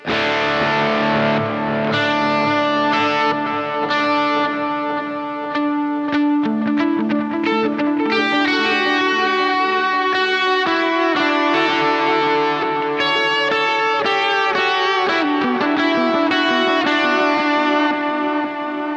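Overdriven electric guitar through an amp simulator, playing chords and single notes, washed in reverb and echoing delay, sustained and loud throughout.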